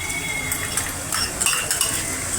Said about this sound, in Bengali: সেই রসুন কুচিগুলো দিয়ে দেবো প্রথমে।